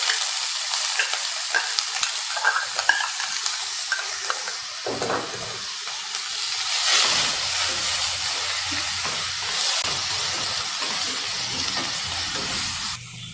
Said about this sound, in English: Now add the shallots.